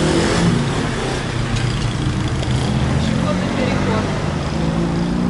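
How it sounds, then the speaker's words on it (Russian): Bus engine passing along a street in central Alanya, Turkey, on an April evening, a steady mid-pitched rumble against city background noise with voices talking nearby. "Автобус."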